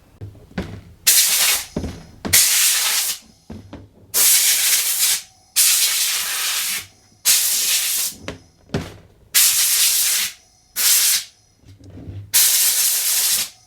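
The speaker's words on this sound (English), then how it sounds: "let's give these a hit with the air compressor" An air compressor nozzle blows loud hissing bursts over Tandy 1000 keyboard parts, about ten blasts of one to two seconds each separated by short pauses.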